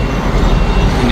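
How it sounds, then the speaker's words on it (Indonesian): A loud, steady wash of traffic and idling bus engines fills a bus terminal in Mecca at night, a dense continuous rumble with no single vehicle standing out. "Ini sudah di kawasan terminal bis ini ya."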